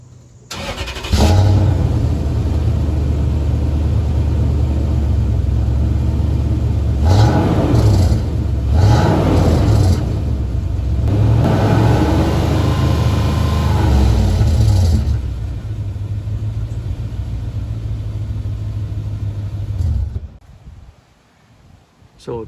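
A car engine fitted with a chrome bolt-on exhaust tip starts and idles loudly, with a deep steady rumble broken by several throttle blips mid-way before settling and cutting off.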